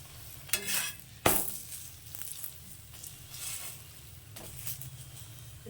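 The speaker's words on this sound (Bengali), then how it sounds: "আবারও তেল দিয়ে আবার আর একটা পরোটা আমি ভেজে নিচ্ছি" Radish paratha frying in oil in a pan: a steady soft sizzle runs throughout, broken by a few sharp scraping and clinking hits from a utensil, close and alone without talk.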